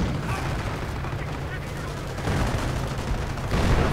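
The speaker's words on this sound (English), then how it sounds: "Artillery going in. Lots of artillery going in." Artillery barrages in a Company of Heroes match, a dense rumbling stream of booms and rattling gunfire that thickens midway and again near the end, with talk faintly mixed in.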